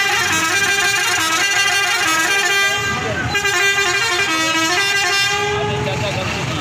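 Horns honk repeatedly from a bus or truck pulling up at a livestock loading point for Eid sacrifice goats, the loud sustained blasts running over a rumbling engine while people talk nearby.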